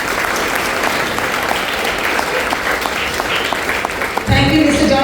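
An audience at a school investiture ceremony claps for the newly elected members, sustained even applause filling the room for about four seconds before a voice comes in close over it.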